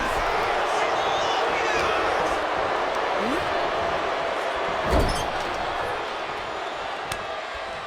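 A wrestling event crowd cheers and roars steadily throughout as an arena din, with a commentator talking over it.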